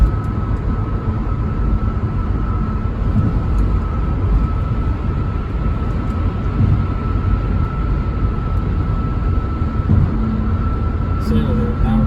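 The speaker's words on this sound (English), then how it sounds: "just listen to the car for a little bit, and just you can hear how smooth it is on this highway" Cabin noise inside a 2008 Toyota Prius cruising on a highway at 71 to 75 mph: a steady low rumble of road and wind, even and continuous with no sharp events.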